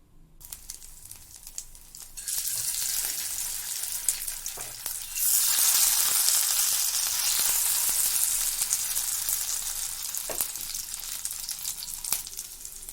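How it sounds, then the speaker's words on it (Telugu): Marinated eggs frying in hot oil in a pan over a medium flame, a steady close crackling sizzle that swells louder partway through, with occasional pops and utensil clicks. "ఇలా అన్ని ఎగ్స్ వేసేసాక ఒక 5 మినిట్స్ వీటిని మీడియం ఫ్లేమ్లో పెట్టి ఫ్రై చేసుకుందాము"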